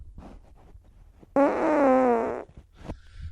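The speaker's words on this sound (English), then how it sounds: "I guess if you fart, I may as well get one out" A loud, sustained fart with a buzzy, wavering tone lasts about a second during a casual podcast conversation, standing alone and close to the microphone before quiet room sound returns.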